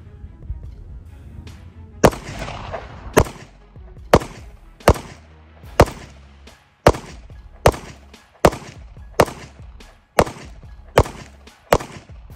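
A Smith & Wesson CSX pistol fires about a dozen sharp, loud shots at a range, each crack spaced a second or so apart in a steady cadence, with faint ambient noise between them.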